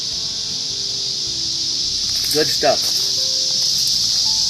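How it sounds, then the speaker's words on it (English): Cicadas drone in a steady, continuous high-pitched buzz that fills the whole stretch at an even level, with someone speaking briefly over it partway through. "Hopefully the cicadas won't get too crazy here. You hear that in the background?"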